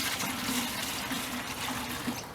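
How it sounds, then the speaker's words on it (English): Water poured into a bucket to dilute nutrient-rich worm compost liquid in a community garden, a steady trickling splash running continuously at moderate level with no talk. "We dilute with water"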